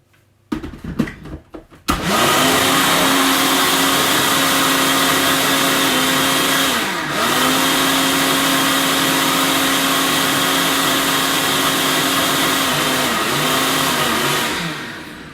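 A blender whirring jerk chicken marinade with soy sauce, starting after a few handling knocks and then running loud and steady with slight dips in pitch, winding down at the end; no talking.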